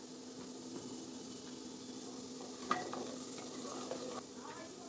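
Onions and tomatoes sauté in a pan for sambar, a steady soft sizzle with scraping stirs of a utensil throughout and one sharper clack near the middle, close and fairly quiet.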